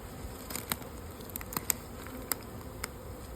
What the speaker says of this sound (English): it looks like we've got double brood box full of bees, top and bottom box